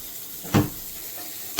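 A burger bun hits butter and a little oil in a pan, giving a brief sharp sizzling hiss, a quieter stretch, then a second burst of sizzle at the very end.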